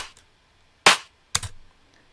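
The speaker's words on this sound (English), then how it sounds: "The claps, pretty simple, except they're stacked." Stacked clap samples in an electronic music production: a faint early clap, then two sharp, bright claps about half a second apart, each with a short tail.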